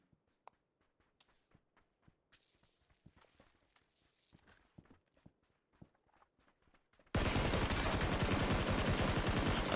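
Gunfire in PlayerUnknown's Battlegrounds during a console esports match: scattered sharp shots and footstep-like ticks, then a sudden loud, dense barrage filling the final seconds.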